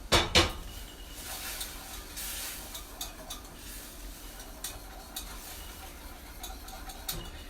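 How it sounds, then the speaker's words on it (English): A whisk beats béchamel sauce in a pan, steady scraping and metal clinks with a few sharp knocks at the start, over a soft background hiss, close by with no talking. "And whisk the heck out of it."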